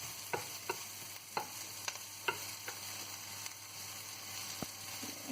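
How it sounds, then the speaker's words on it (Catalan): Onion cooks slowly in a pan, giving a quiet, steady frying hiss punctuated by several sharp taps and scrapes of stirring, fairly faint and with no voices. "Mentre tenim la ceba coent-se a poc a la paella"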